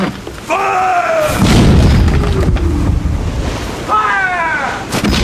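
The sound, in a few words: ship's cannon firing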